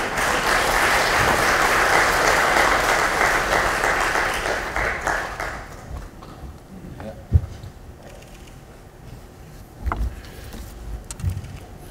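Audience of lawmakers at a Democratic Party parliamentary workshop applauding to welcome a speaker, loud dense clapping for about five seconds that fades out, followed by a few scattered thumps and handling noises.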